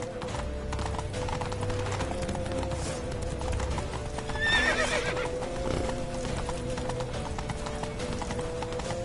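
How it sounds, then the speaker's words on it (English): Horse hooves clip-clop at a gallop in The Witcher 3 fantasy video game, a steady rapid beat with a whinny near the middle, over continuous game music and ambience. "Grab a horse to the temple!"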